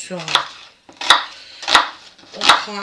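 Small onions are chopped on a cutting board with four distinct, evenly spaced knife thunks, close and fairly loud, with faint room noise between strokes.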